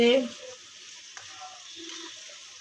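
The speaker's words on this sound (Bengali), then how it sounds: "ঘিয়ের ভিতরে ক্যাপসিকাম বিনস আর গাজর এগুলো ফ্রাই করা হচ্ছে" Capsicum, beans and carrots frying in ghee, a faint steady sizzle close by, with a brief voice at the start and a light clatter from stirring.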